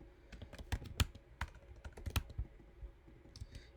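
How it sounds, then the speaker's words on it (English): Someone types code on a computer keyboard in soft, scattered clicks with a few sharper taps, close and fairly quiet, with no speech. "So we're going to type that too"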